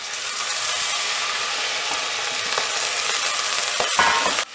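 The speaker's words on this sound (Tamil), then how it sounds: "கறுவேப்பிலை ஆட் பண்ணிட்டு இது கொஞ்சம் வதக்கிடணும்" Curry leaves sautéing in a pan for pudina thogayal: a close, even sizzle of hot oil with a few faint stirring clicks and a scrape near the end, no speech.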